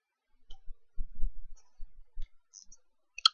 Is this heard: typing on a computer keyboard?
yes